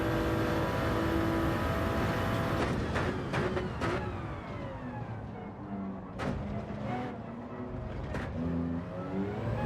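A race car engine in Gran Turismo 7 revs high, then drops pitch with a clear gear shift from first to second and climbs again, loud and close with continuous engine whine throughout.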